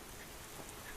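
Rain falling in an episode of the anime Fullmetal Alchemist, a faint, steady wash of hiss and patter with no voices over it.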